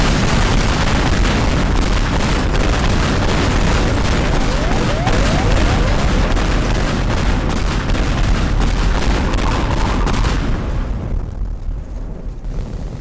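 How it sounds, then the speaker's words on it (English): An ICBM explosion in the video game Teardown, a loud, sustained roar with dense crackling bursts, fading out toward the end. "let me show you the true explosion size"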